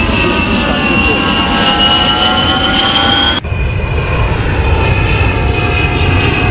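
An Embraer EMB-810D Seneca III twin-engine airplane with two Continental TS-360 six-cylinder horizontally opposed engines makes a loud, steady propeller drone with a tonal whine. A brief dip midway shifts the pitch slightly.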